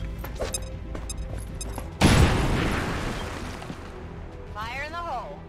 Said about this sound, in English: throw a grenade over here, blow through the wall